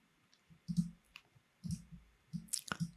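Mouse clicks from picking a colour with an eyedropper tool in graphics software, a few quiet, sharp clicks spread across the moment, close and alone with no talk.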